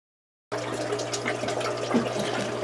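Water rushing steadily through a Python water changer during an aquarium water change in a fishroom, a continuous close hiss and gush starting abruptly after a half-second of silence and running unbroken to the end.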